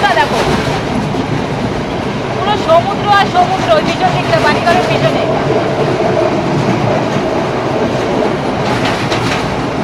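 A train runs through a coastal railway station in Sri Lanka without stopping, its steady rumble and wheel clatter continuous and close, with a voice talking over it throughout.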